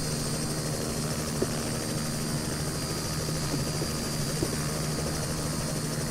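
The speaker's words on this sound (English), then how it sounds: "Boy, this helicopter is not as easy to handle as my MD, is it?" Helicopter in a flight simulator game, flying near airport jet bridges; a steady, loud rotor and turbine drone holds throughout with constant high whine and low thrum, no speech.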